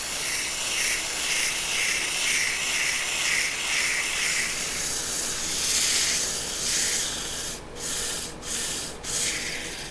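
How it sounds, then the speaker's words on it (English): Sandpaper rubbing steadily against a spinning wooden bottle opener on a lathe, made of oily wood, giving a continuous close hiss with faint pulsing. Near the end the sound breaks into three brief gaps. "this is going to just take a minute to get this sanded down"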